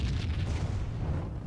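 A fire explosion in the video game Max Payne, a heavy, sustained rumbling boom with a dense roaring body that fills the whole moment without letup.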